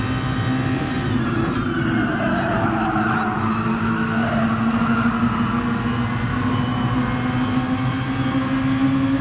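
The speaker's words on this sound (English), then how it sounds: "Just listen to that engine labour down." A race car engine drones steadily in Gran Turismo Sport at Monza without the chicane, a constant loud strained hum with little change in pitch, heard from inside the car.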